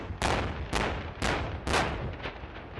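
Four loud, sharp blasts go off one after another during disposal of illegal explosives by an EOD team, each a broadband crack with a long rumbling decay that the next blast cuts short.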